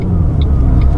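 A car's engine and exhaust fitted with a $40 GT muffler, giving a steady, loud low rumble throughout, close by and alone.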